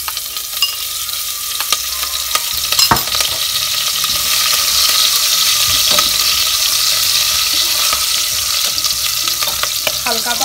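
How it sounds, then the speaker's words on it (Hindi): Chopped green chilies frying in hot oil with cumin over medium-high heat for a matar mushroom sabji, a loud, steady hiss and crackle up close with occasional stirring scrapes. "इसमें डाल देते हैं कटी हुई हरी मिर्च।"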